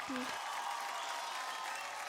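Loud, steady applause from a studio audience on a Marathi TV dance competition show, sustained throughout with a brief low tone near the start.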